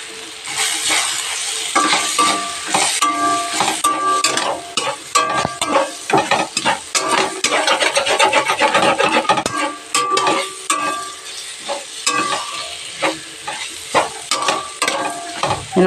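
Ginger garlic paste frying in a pan, a loud continuous sizzle broken by a rapid, rhythmic scraping and clinking of a steel spoon against the pan, no voices.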